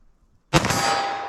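A 9mm pistol shot rings off a steel target: one sharp crack followed by a long, bright metallic ring that fades slowly, close and loud with no talking.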